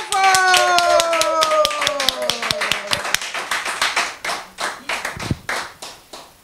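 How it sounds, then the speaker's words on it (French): Clapping from an audience comes in a rhythmic, evenly spaced beat that gradually slows and thins out, with voices and tones heard underneath near the start. "Applaudissements pour Téléantille"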